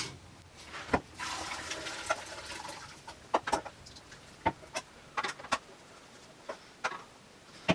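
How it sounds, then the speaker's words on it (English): Cooked spaghetti is poured into a holed colander, making soft watery splashes and a series of scattered clattering knocks over a wet background hiss, fairly quiet and close. "I'm simply just going to pour pasta into it"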